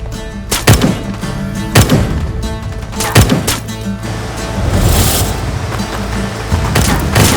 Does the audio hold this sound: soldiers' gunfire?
yes